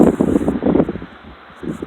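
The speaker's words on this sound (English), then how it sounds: "since it's kind of windy" Wind gusts across open ground during a groundhog hunt with a dog, giving loud, rough buffeting rushes that swell and fade in bursts close to the microphone, with no talking.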